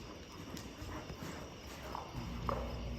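Horse hooves walking in a dressage arena during a courtesy circle, faint soft steady clip-clop steps under broad noisy ambience, somewhat distant, no talk.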